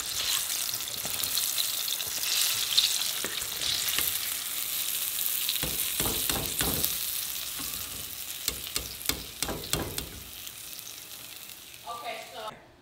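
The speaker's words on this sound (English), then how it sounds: "I'm gonna throw in the biscuits while the fryer oil is heating up" Biscuits cooking beside fryer oil heated to 400 degrees: a steady hiss of bubbling with scattered sharper crackles and clinks, moderately close, without speech.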